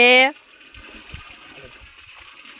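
Water running from a pipe for bathing at a farm makes a faint, steady rushing stream that continues after a brief loud voice at the start.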